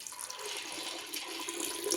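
A fresh batch of water gushes over soaking sago pearls, a short close rush of liquid that swells slightly toward the end, with no voices.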